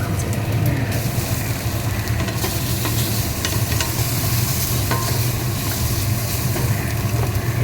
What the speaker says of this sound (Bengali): এবার সয়াবিনগুলো দেবো।